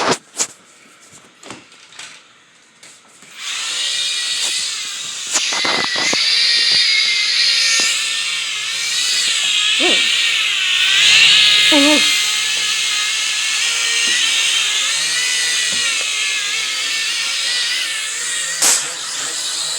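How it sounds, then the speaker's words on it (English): A toy-grade drone flies with its propeller motors giving a sustained, wavering high whine that rises in pitch as it lifts off. Clicks and knocks come before it starts, and the whirring stays close and steady to the end. "this is actually a pretty good drone"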